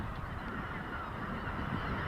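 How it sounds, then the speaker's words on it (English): Geese honk in a dense, steady chorus of migrating waterfowl over rice fields in California's Sacramento Valley, heard faint and distant as a continuous wash of calls. "we have millions of waterfowl and hundreds of thousands of shorebirds that come right down the Central Valley"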